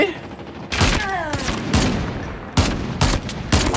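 Rapid gunfire in a shooter video game, bursts of loud close shots with a sniper rifle and a handgun in the mix, several volleys separated by brief gaps, with a faint whistling tone in the background.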